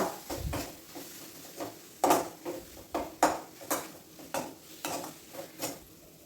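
Turmeric powder being stirred in a pan for egg curry, a spoon scraping and tapping the pan in a steady rhythm of about a dozen distinct strokes, close and clear, with a faint sizzle underneath and no talking.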